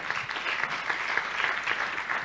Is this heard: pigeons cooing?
no